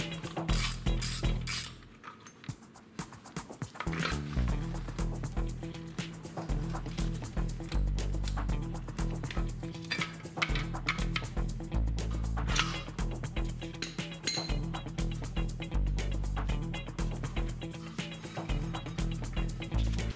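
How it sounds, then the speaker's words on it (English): Bolts coming off the rear mudguard and swing arm cover of a 1997 BMW F650 motorcycle, with steady ratcheting and metallic clicks running close up over a constant low hum, no talking. "we'll start removing these bolts for this rear mudguard and swing arm cover"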